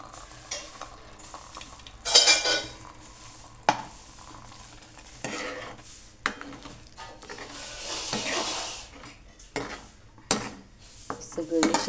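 A palak paneer mixture of spinach and fried masala gets stirred in a metal pot. Scraping spoon strokes and clanks of utensils come up close in irregular bursts over a faint sizzle, and nobody speaks.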